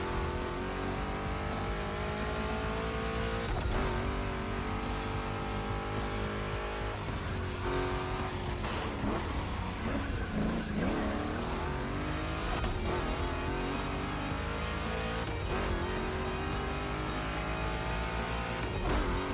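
Two big-block Chevrolet cars race in The Crew Motorfest, with loud continuous engine roar, repeated revving and gear shifts, and occasional tire squeal, close and steady throughout with no talking.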